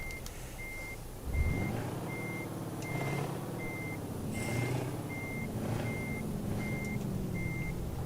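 Reversing beeps from a truck in Euro Truck Simulator 2, a steady evenly spaced series of about eleven high tones over a deep idling diesel engine that revs up slightly as the rig backs.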